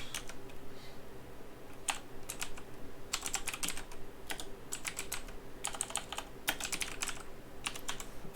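Computer keyboard typing in short separated bursts of crisp key clicks over a low steady hum, close and quiet, no speech.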